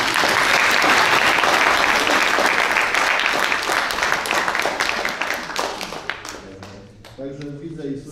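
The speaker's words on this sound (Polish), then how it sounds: "Ja zaśpiewam jeden dźwięk, Państwo będą bili brawo." An audience at a concert gathering bursts into loud, sustained applause that gradually thins out, and a voice then sings a single note at the end.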